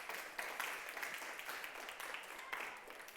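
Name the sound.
audience applause in church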